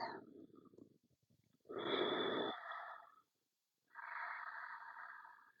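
A slow, deep exhalation in yoga child's pose, two long breathy out-breaths separated by brief silence, close and soft, with no talking.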